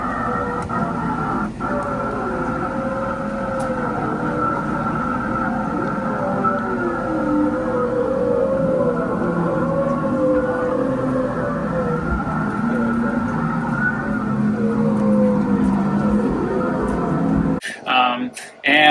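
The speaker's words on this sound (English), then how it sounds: "you can hear the whales singing under the water" Humpback whale song recorded by hydrophone off Maui: long, sliding moans and tonal calls rise and fall over a muffled underwater wash, ending in a few abrupt clicks.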